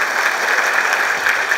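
Audience applause at a Burmese talk or speech event: a steady, dense wash of clapping with no talk over it.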